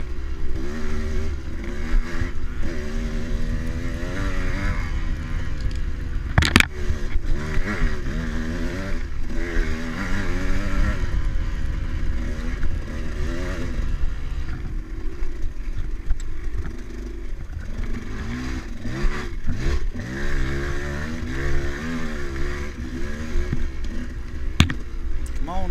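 A dirt bike engine in a hare scramble race revs and bogs through deep ruts, its loud, uneven throttle surging up and down continuously close by, with occasional clatter.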